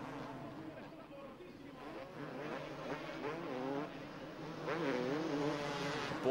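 A Yamaha 250 motocross bike racing in a 2002 250 MX Grand Prix round at Bellpuig, its engine revving and changing pitch at a moderate distance, heard under a commentator talking.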